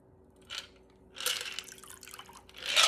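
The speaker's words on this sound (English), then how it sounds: "I'm going to pour it into my chilled cocktail glass" A Red London cocktail is poured from a shaker into a chilled cocktail glass, giving a soft, brief liquid trickle followed by a fuller splashing pour near the end.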